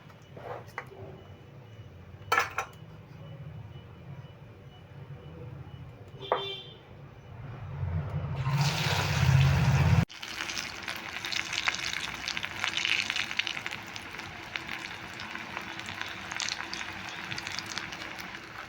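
Stuffed potato rolls frying in oil: a quiet hiss with a few sharp tonal beeps early on, then a loud burst of sizzling as more rolls go in, settling into steady close frying.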